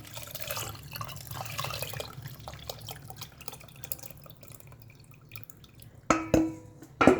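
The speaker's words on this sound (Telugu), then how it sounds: "ఇప్పుడు చింతపండు నీళ్ళు పోస్తున్నానమ్మా" Tamarind water is poured into freshly ground dal for a moringa leaves dal, giving a soft trickle and scattered drips close by, then a few sharper clinks and splashes toward the end.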